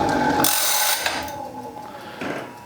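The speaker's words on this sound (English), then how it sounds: "You'll probably be able to even tell a little bit of difference in the grinding itself" A sawmill blade sharpener grinds the blade, producing a steady whining hum overlaid with harsh rasping bursts of metal grinding that swell and fade close by.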